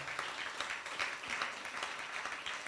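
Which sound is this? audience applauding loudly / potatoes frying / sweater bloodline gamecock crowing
audience applauding loudly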